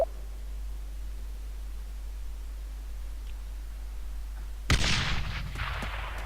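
A frag grenade explodes in ArmA 3 combat, a sudden loud blast near the end after a long stretch of quiet hiss, followed by a rumbling, crackling decay.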